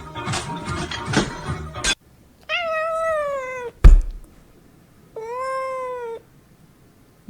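Two drawn-out cat meows, close and clear, separated by a sharp bump, following a stretch of busy background noise.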